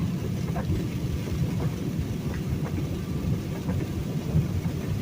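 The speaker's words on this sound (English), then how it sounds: "I mean, yeah, it's raining" Steady rain drums on a big-rig truck cab during a thunderstorm, a dense continuous patter with a low rumble underneath, loud and close.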